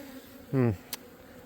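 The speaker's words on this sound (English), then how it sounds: "Still got plenty of bees and food" A honey bee buzzes briefly near an open hive, one short close hum with a faint tick after, no voices.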